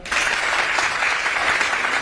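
Steady, full audience applause follows a prime minister's special lecture on youth leadership and politics, a dense, even roar of many hands that continues without a break.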